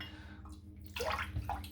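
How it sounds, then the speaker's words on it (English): Water splashes as it is dumped out of a shaving soap tub, a brief pour and slosh followed by a few drips, close and fairly quiet, with no talk. "I'm just going to dump a little bit of water that I placed in there just to soften the top layer"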